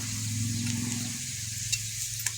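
Broccoli and egg chops frying in shallow oil in a pan, a steady close sizzle with a few soft clinks and stirring sounds and no voices.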